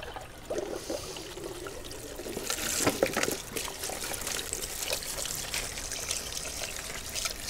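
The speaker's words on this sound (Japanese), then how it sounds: "もう一回だけ水を変えようかな。" Water being changed while hand-washing sneakers, steady pouring and trickling in a basin with splashy surges, close and continuous with no talk.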